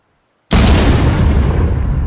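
A grenade explodes in the video game Contractors, a sudden loud blast after half a second of silence, followed by a long rumbling, roaring decay that stays strong to the end.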